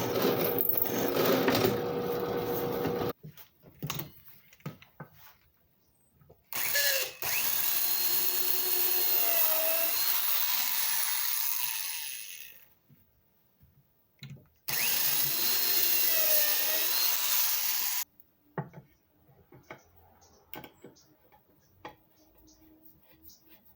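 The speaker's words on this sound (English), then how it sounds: "I'm going to countersink them and drill them all in one with this bit" A power drill whirs in two sustained bursts of several seconds each, countersinking and driving screws, with quieter workshop clatter and short mechanical sounds in between.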